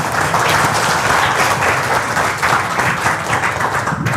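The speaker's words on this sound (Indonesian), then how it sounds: "Tepuk tangan." Audience applause, loud and continuous, fills the room as a thick wash of many hands clapping at once, steady throughout with no voices standing out.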